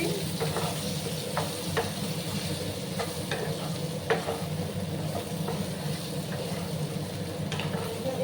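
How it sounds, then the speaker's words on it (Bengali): Curry with turmeric powder is stirred in a pan over moderate sizzling, with a utensil scraping and tapping at irregular intervals, no talk. "দিয়ে আবার ভালো করে আমি এটা নাড়াচাড়া করে নিচ্ছি"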